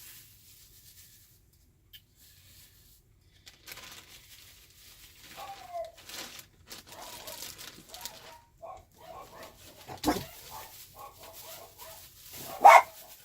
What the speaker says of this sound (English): They like to bark at the neighbor dogs, so that's what you're hearing.